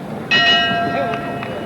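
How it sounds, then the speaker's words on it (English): A boxing ring bell clangs to end round one of a heavyweight bout between Ellis and Ali, a single bright ringing strike that decays slowly over crowd noise and commentary. "And there's the bell."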